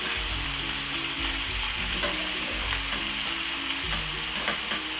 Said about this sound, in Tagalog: Sasautay pa natin guys doon sa onion and garlic.